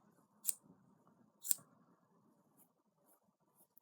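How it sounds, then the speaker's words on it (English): Scissors trimming a chunky yarn pom-pom make two crisp, close snips about a second apart, followed by faint rustling of the thick yarn. "So I'm going to sit here and carry on trimming just to make that bit actually look like a pom-pom"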